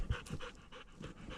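A dog pants close by in quick, rhythmic breaths, a steady run of short huffs with no talking over it.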